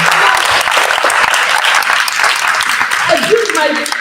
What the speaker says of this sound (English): I thought somebody would clap.